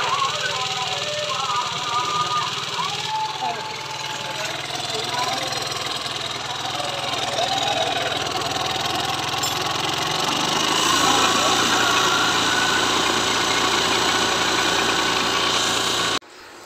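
A faulty Hero Duet scooter engine runs continuously with a rough, uneven rattle and knocking, close by, its pitch shifting partway through before stopping abruptly.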